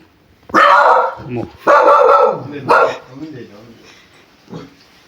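A dachshund puppy barks three times, loud and close, the sharp barks spaced about a second apart, followed by softer whimpering sounds.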